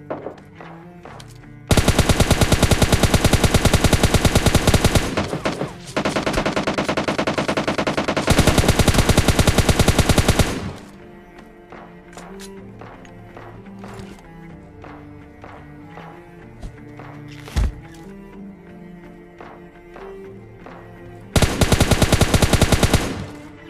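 Automatic weapon fire in PUBG Lite during a solo-versus-squad match, with long loud sustained bursts, a few isolated single shots and quieter stretches of movement between them.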